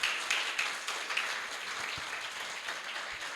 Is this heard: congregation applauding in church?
yes